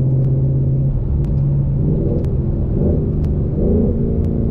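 A 10-speed Ford Mustang in drag mode with traction control off, rolling at about 40 mph as the engine drones and rises in pitch through a gear change, a steady loud in-car rumble with no talk.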